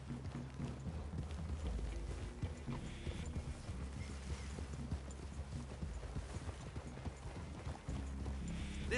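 Horse hooves clip-clop steadily and continuously, like several horses trotting together, with a faint mechanical background and no talking, in the video game Red Dead Redemption 2.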